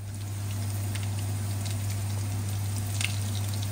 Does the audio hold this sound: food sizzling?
yes